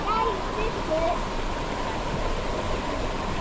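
Maunawili Falls on Oahu, Hawaii, gives a steady, close rushing roar of falling water that continues without a break, with faint voices briefly audible at the start.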